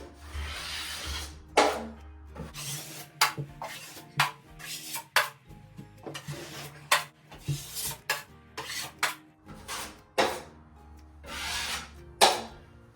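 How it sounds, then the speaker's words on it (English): Drywall trowel scraping excess joint compound along taped seams, a series of short rasping strokes in an irregular rhythm, close and moderately loud. "you're gonna come back with your trowel and clean up the extra mud"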